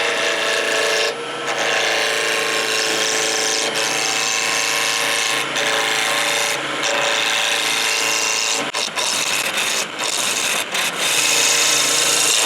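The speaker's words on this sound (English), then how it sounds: "I'm just going to go in here with a roughing gouge" A roughing gouge cuts a spinning wood blank on a lathe while shaping a Christmas ornament, giving a loud, close, continuous rasping scrape with a steady motor hum and a few brief dips as the tool shifts.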